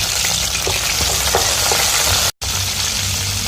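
Garlic and ginger paste fries in hot oil with a dense, steady sizzle, close and loud, and a brief dropout in the middle.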